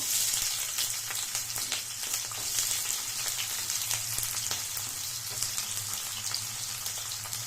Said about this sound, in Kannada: ಎಣ್ಣೆ ಕಾದಿದೆ ಈ ಹಂತಕ್ಕೆ ಈರುಳ್ಳಿನ ಹಾಕೋತಾ ಇದ್ದೀನಿ